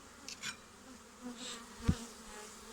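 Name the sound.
honey bees buzzing during hive inspection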